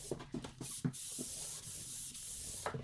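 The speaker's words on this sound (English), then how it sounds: "that's all we want to sand because the machine sanded everything else" Hand sanding of drywall plaster into an internal corner, short scratchy rubbing strokes in an irregular rhythm, close and fairly quiet with no talk.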